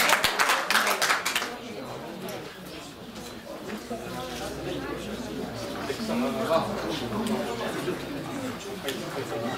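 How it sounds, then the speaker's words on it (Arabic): Warm applause from an audience at a photography exhibition's closing ceremony, starting with a burst of clapping and then fading into crowd chatter while a speaker talks. "إذا تصفيقة حارة للمشاركة ياسمينة العور"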